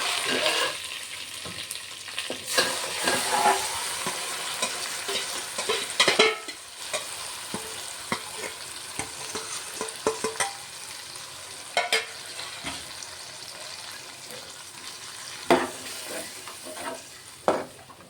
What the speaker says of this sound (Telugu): ఇప్పుడు ఇందులో చికెన్ వేసుకుంటా